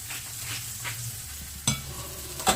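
Mushrooms sizzle in a frying pan while being stirred and turned, a steady close crackle broken by a few sharp scrapes of the utensil against the pan, with no talking.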